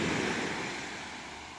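Waves wash onto a small sandy beach beside a parked camper van, heard as a continuous, close roar of surf mixed with wind buffeting the microphone.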